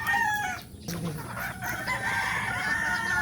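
Chickens being bathed cluck and squawk loudly and close by for a few seconds, with water and handling noise beneath and a faint voice in the background.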